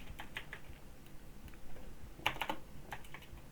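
Rapid bursts of typing on a computer keyboard, clicking keys in short irregular clusters at close range with a pause between runs, no talking.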